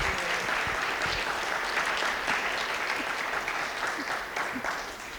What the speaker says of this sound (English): if we can get a round of applause for these guys